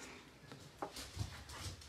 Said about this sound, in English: Oh, the dog's getting excited.